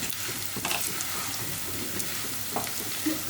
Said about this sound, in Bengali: চালটা কিন্তু আমার ভাজা হয়ে গেছে।